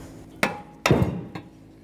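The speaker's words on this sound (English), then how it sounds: "you might need to take a hammer and just give it a tap." A hammer taps a fan clutch free from the fan of a 1997-2004 Dodge Dakota, with three sharp metallic knocks that are close and clear. The first and third are single hits and the middle one rattles briefly.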